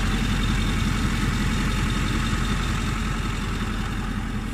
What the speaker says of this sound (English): Very, very clean sound from the exhaust,